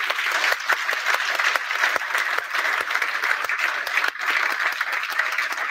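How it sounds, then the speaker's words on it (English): Warm audience applause at an evening celebration of apprenticeships ahead of International Women's Day, a dense, loud, steady wash of many hands clapping throughout, with a brief dip near the end. "Join me, please, in a warm round of applause."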